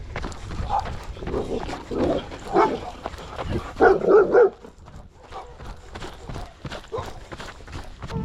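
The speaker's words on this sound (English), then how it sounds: "that fence doesn't look high enough to keep those dogs from coming at you" Several dogs barking behind a fence along a trail at Folsom Lake, repeated loud woofs in bunches at mid distance over the steady thud of running footsteps, with the loudest burst near the middle.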